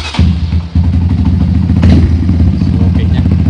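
A MOJO200 motorcycle fitted with a muffler starts on its electric starter, then its engine runs in a steady, close, loud low thumping idle.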